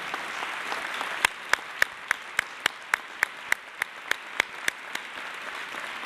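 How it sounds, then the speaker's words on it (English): Applause from an awards-dinner audience for the staff at a chamber of commerce event: a steady wash of clapping across the room, with a run of sharp, evenly spaced louder claps standing out near the microphone. "Another round of applause for our staff"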